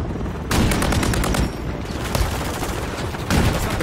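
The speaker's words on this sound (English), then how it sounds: "I'm taking fire!" Bursts of rapid automatic gunfire in a Call of Duty-style shooter, aimed at the player during a hardpoint match, crackling loud and dense in several volleys over the whole stretch.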